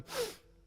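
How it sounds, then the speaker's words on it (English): A person gives one quick, forceful snort, sucking air up through the nose. It sounds as a close, breathy rush that fades within a second. "even if you just snort up your own snot"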